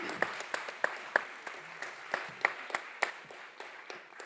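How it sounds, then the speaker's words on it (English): A small audience gives brief applause for an arbitration panel at a moot court final: sparse, irregular individual claps, fairly quiet and a little distant, fading out within a few seconds. "Please join me in a round of brief applause for our panel."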